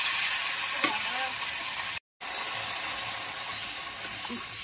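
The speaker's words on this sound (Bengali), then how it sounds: "বন্ধুরা ভালো করে মশলাটা কষাতে হবে" Spice masala with yogurt and a little water frying and being stirred in a pan for kofta curry: a steady, close sizzle, broken once by a brief silence, with an occasional faint scrape.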